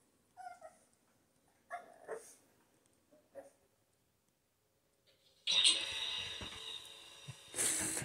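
A puppy stuck on a couch gives a few short high whimpers and yips, then a louder, noisier rustling stretch follows.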